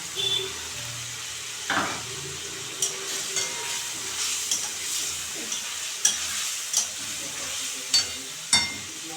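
Prawns frying with lotus taro in a pan give a steady close sizzle, broken by repeated scraping stirs and occasional louder spatula knocks, with no talking.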